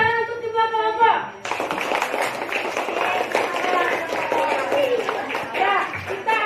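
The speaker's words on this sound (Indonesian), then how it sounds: "Tepuk tangan untuk kedua kelompok." Classmates in a classroom clap for two discussion groups, a burst of fairly loud, brisk clapping that starts suddenly after a teacher's short spoken line and continues steadily to the end.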